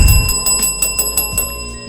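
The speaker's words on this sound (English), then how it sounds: "Let me hit my bell one time." A bell rings in a quick run of bright, repeated dings, close and loud, then fades out.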